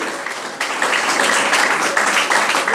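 Church congregation applauding during a Spanish-language sermon, a dense, steady wash of many hands clapping at once, loud and close, swelling slightly after the first half second and holding without talk.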